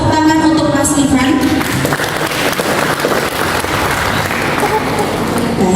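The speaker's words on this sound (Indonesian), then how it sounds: "boleh saya minta tepuk tangan untuk Mas Rifan" Applause from an audience at a workplace productivity training session, loud and continuous broadband clapping that fills the room for several seconds, with voices mixed in underneath.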